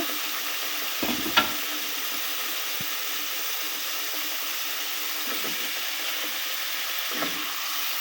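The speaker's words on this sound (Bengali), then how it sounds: "আমি এখন আগে মাথাটা দিয়ে দেবো মাথাটা দিয়ে কষিয়ে নেব" Rohu fish head frying in oil with a cooked-down spice paste, a steady close sizzle with occasional stirring scrapes and clicks of a utensil against the pan.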